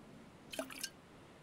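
Water drips in the survival game Stranded Deep, with two quick, faint drops landing close together against a quiet background.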